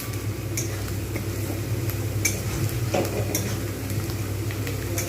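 Onions fry in hot oil into crisp beresta for chicken biryani. A constant close sizzle runs throughout, with occasional scraping stirs in the pan.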